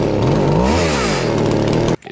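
An old chainsaw fired up and running roars loud and close, its engine pitch dipping and rising as the throttle changes before it cuts off abruptly near the end.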